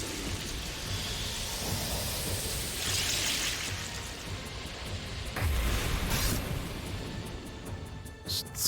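Deadly Rain attack from the video game Legend of Legaia: a steady wash of falling rain with rumbling thunder, a dense hiss throughout with a heavier low boom midway.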